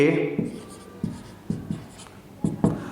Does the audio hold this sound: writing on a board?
yes